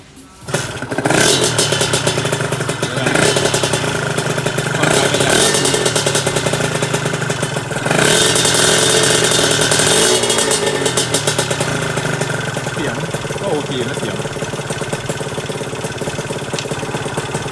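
A motorcycle exhaust pipe rumbles as the engine starts up close and settles into a loud idle, with several brief blips of revving throttle between stretches of steady idling.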